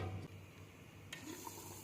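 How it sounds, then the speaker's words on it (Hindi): Water boiling in a pot for chana pulao, a steady faint bubbling and hissing roll, close and continuous with no talk over it. "पानी अच्छे से यहाँ पे उबल गया है"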